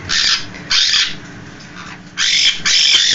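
Pet parrots squawk in a home beside a large cage, loud harsh calls in three bursts separated by short quiet gaps, close to the microphone.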